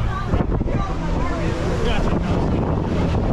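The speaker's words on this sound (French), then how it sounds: "il y a un peu de vent" Gusty wind rumbles across the microphone in a continuous low roar at Universal's Volcano Bay water park, with indistinct outdoor background noise.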